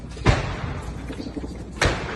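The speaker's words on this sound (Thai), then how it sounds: "ก็ยังมี เสียงระเบิดดังอยู่เป็นระยะ ระยะ" Two heavy booming bomb blasts in a war zone, one near the start and one near the end, each a broad thud over a continuous low rumble.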